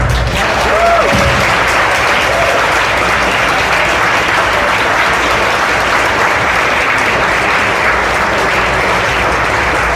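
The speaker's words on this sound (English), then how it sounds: "So round of applause to you guys." A crowd at the Netrunner Worlds 2018 card game tournament breaks into loud, continuous applause, dense and steady for the whole stretch, with faint cheering or a brief whistle near the start.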